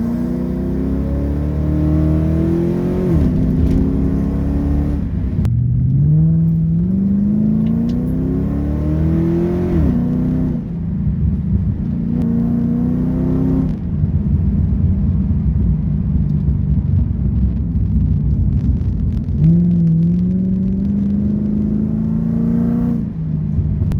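A Ford Falcon BA XR8 V8 runs a practice lap at a speed sprint event, engine loud and close, revving up and down through repeated rising pulls with gear changes, steady throughout and no talk.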